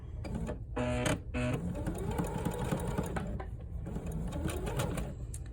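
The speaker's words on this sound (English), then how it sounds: "I am going to get my pedal, and I'm going to start sewing." A sewing machine stitches diagonal seam tape, running steadily close by with a mechanical whir and rhythmic needle clatter, louder in a brief burst near the start, with no talking over it.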